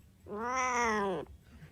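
One long, plaintive cat meow, clear and close, holding steady for about a second before cutting off into quiet.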